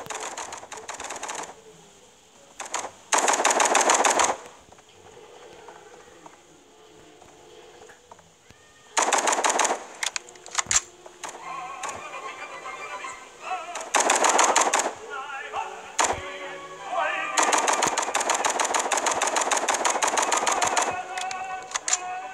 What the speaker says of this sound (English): let's go shooting, baby